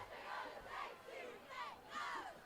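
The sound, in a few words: football crowd's legendary cheer started by the seniors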